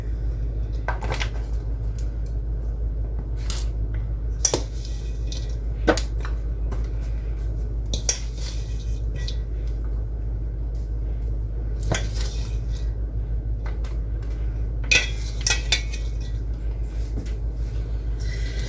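Thin disposable aluminium loaf pans are handled in a home kitchen, giving scattered light metallic clinks and crinkles over a steady low hum, with no talking.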